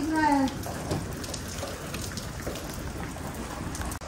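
Raindrops patter steadily on surfaces in a hailstorm in Bihar, a continuous close spatter, with a short voice at the start.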